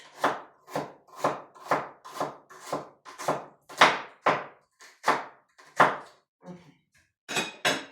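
A knife chops mushrooms on a board in a steady rhythm of about fifteen close, soft thuds, briefly pausing before the last few cuts.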